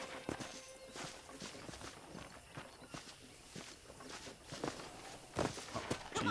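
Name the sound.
horse hooves while riding in video game Red Dead Redemption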